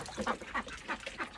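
Ducks quacking in a short burst of four nasal quacks in quick succession, close by and moderately quiet, with no talking.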